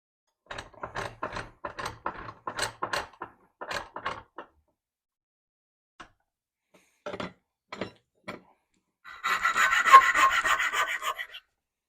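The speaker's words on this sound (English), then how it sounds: "we're just going to start filing a taper right onto that plug" A hand file cuts a taper onto a powder horn plug in quick, rhythmic rasping strokes, close and fairly loud, with a pause and a few more strokes before a longer, denser scraping burst at the end.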